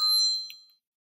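An incoming call from an unknown number sounds as a single bright electronic chime that rings clearly, then decays smoothly into silence within a second.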